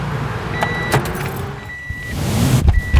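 A 1993 Acura Integra started with a key, heard close up: faint key jingle and repeated electronic warning chimes inside the cabin, then the engine turning over and rising near the end.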